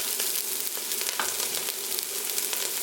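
Onion and other ingredients sauté in hot oil in a pot for an easy vegan pasta, a dense steady sizzle with small crackles and pops, close and continuous with no talking.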